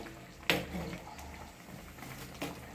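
A pot of mutton curry bubbles and simmers steadily nearby, with soft popping and gurgling and a couple of sharper splutters.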